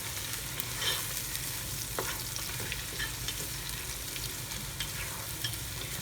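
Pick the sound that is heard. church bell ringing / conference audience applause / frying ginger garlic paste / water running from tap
frying ginger garlic paste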